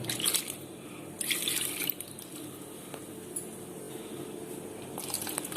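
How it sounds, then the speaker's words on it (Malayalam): Boiled, salted lentils being kneaded by hand with cold water into a batter, giving soft wet squishing and squelching sounds, quiet and close, with a few slightly louder splashy bursts. "ഇനി നമുക്കിത് പച്ചവെള്ളത്തിൽ കുഴച്ചെടുക്കാം."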